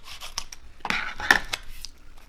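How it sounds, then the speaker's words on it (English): Scissors snip off a piece of material during tumbler making, a few quick close cutting and rustling sounds over about two seconds. "cut this piece off again."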